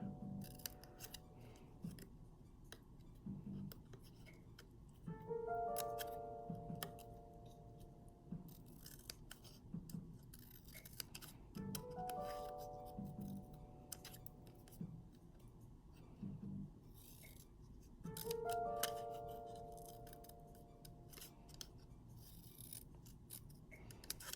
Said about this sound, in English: So I'm cutting away my little pieces like this.